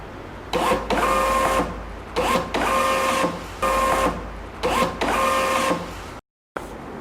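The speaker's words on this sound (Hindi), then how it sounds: "अभी इधर प्रिंट आ जाएंगे दोस्तों" A label printer prints product price tags in four bursts of whirring mechanical buzz with pauses between, close and loud, followed by a short moment of silence.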